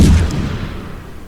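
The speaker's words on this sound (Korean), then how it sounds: "이 대포는 360도로 발사됩니다." A single boom of cannon fire from a programmed cannon game, an abrupt low thump at the start that fades out over about a second, heard alone without speech.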